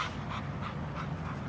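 A dog pants steadily up close in short, quick breaths, a soft rhythmic huffing that continues throughout.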